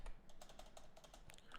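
Rapid keystrokes on a computer keyboard while code is typed, a quick run of light clicks at an uneven rhythm, close and faint, with no speech.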